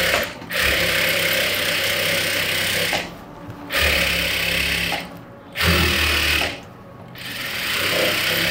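A sewing machine stitching the hem of a shirt during a tailoring class, running in steady bursts of close, busy whirring with three short pauses between runs.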